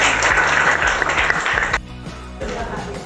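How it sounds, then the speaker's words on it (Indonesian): Applause from a classroom audience at an Indonesian teacher-training sociology session, a dense wash of clapping that runs loud for about two seconds, drops sharply, then swells again briefly. "berikan tepuk tangan"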